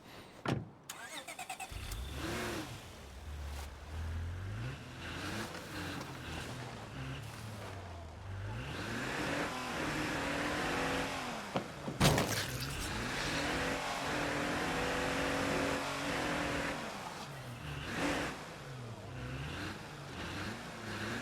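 A car in the video game State of Decay 2 drives and pulls in to park, its engine revving up and down in rising and falling sweeps, with a sharp thud partway through.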